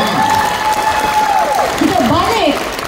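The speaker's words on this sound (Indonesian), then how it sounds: "So, beri tepukan untuk RTM dan juga Bintang RTM." A studio audience applauds and cheers at the Bintang RTM 2024 singing competition, with a loud wash of clapping under a sustained melodic tone that bends and wavers, along with a voice or instrument on top.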